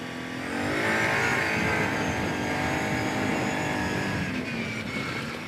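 Kawasaki Brute Force 750 ATV engine revving hard and accelerating on a trail, a loud, close, steady roar rising and holding for several seconds with no talk over it.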